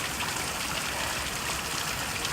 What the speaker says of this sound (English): Get a drink of water here.